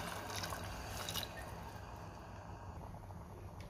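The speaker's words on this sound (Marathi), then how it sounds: "मी पाणी घालते," Water poured into rice that has been sautéed for two minutes in a cooking pan makes a soft, steady splashing stream, quiet and continuous, with no talk.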